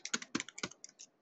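Quick, close keystrokes on a computer keyboard, about a dozen crisp taps in an uneven burst with nothing else around them.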